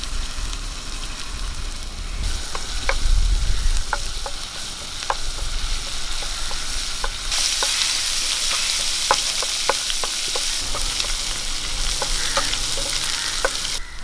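Ginger-garlic paste frying in coconut oil in a pan, a steady close sizzle with scattered sharp pops and spatters and occasional stirring scrapes throughout, no voices.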